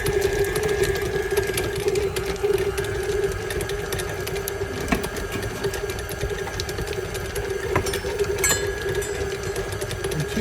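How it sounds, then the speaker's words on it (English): An electric stand mixer whirs steadily as it beats a stick of unevenly softened butter, a continuous mid-pitched motor hum with faint clicking and rattling, close and without talk. "in our mixer, we're going to incorporate 1 stick of softened butter"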